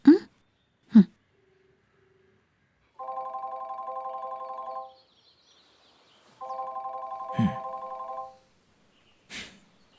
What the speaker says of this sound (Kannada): ಅಕ್ಕ ರಿಂಗ್ ಆಗ್ತಿದೆ.